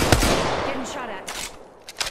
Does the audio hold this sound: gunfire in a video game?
yes